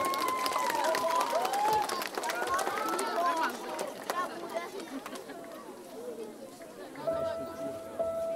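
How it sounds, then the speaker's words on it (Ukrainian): Audience at an outdoor Independence Day concert clapping and murmuring as a young circus-studio performer is welcomed to the stage, a dense crowd wash with scattered voices that gradually thins and fades. "Софійка Орлик, зустрічайте її оплесками!"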